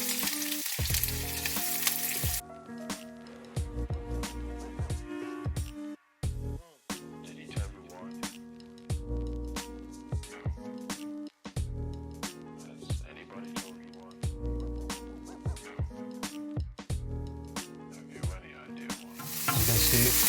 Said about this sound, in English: Then we're gonna add the sausage in little chunks.